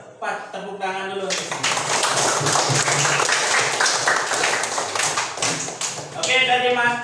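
Students clap their hands together in a primary-school classroom, a dense, steady burst of applause lasting several seconds, with a teacher's voice briefly before and after.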